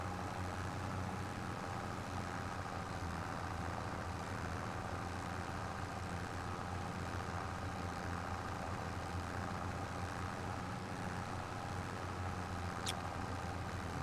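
Tractor engine idling steadily in a farming video game, a low continuous drone held at even level throughout, with no talk.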